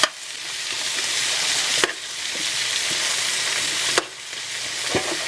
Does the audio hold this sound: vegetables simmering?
yes